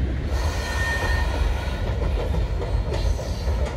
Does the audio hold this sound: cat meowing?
no